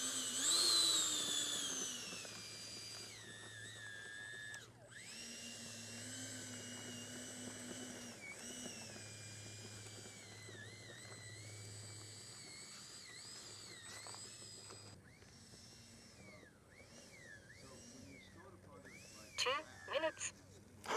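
An FMS A-10 Thunderbolt II with twin 70mm electric ducted fans taxiing on a runway, a high whining fan tone rising and falling with throttle, steady and moderately close, with people talking over it.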